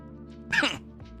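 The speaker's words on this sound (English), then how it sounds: "Sorry, I coughed on stream." A single sharp cough bursts out close by, brief and harsh, with quiet room tone before and after.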